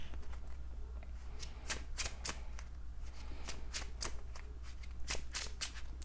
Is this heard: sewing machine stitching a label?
no